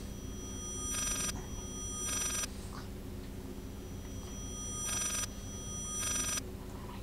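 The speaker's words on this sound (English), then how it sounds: "Sounds like an old school phone." An old-fashioned telephone rings in the horror video game Layers of Fear, four separate ring bursts in two pairs over a low, droning ambient hum, with no talking.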